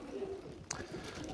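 Racing homing pigeons coo softly in a short low burst, close by and fairly quiet, with a brief click in the middle.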